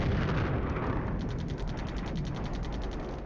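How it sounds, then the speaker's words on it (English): Artillery bombardment in the wargame Flashpoint Campaigns: Southern Storm, a dense, continuous rumbling roar with rapid mechanical clatter layered through it, loud and steady with no talking. "bombardment ongoing"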